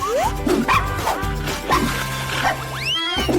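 A dog barks on a TV show about dogs, giving a rapid run of bright barks and yips with a whimper and a thud mixed in, loud and close throughout.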